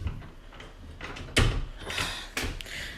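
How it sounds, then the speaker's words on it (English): Household door being unlocked, a few short clicks and clacks of the mechanism with a sharper knock near the middle, close by, and no voices. "I have to unlock the door"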